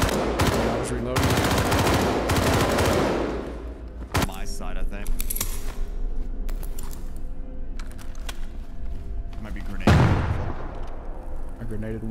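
Suppressed gunfire in an online shooter game crackles in rapid bursts and single cracks at varying distances, with players talking over the action.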